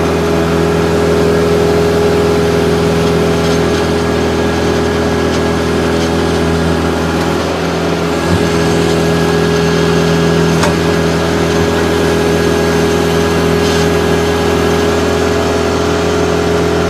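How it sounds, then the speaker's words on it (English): A 2011 Kubota B3200HSD tractor with backhoe runs steadily nearby, a constant mid-pitched engine drone with a slight shift in tone partway through and no voices. "Tractor's going to pick itself up just like it's supposed to."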